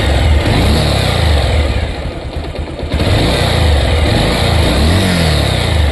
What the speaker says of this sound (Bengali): এখানে বিড় বিড়ি করে একটা নয়েজ আসছে দেখেন।